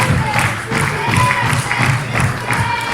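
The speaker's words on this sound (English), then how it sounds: "Tucker firing up this capacity crowd here at Titanic Wrestling" A capacity crowd cheering at a Titanic Wrestling show as a wrestler fires them up: a steady, roaring wall of crowd noise with rhythmic swells, and a commentator's voice running over it.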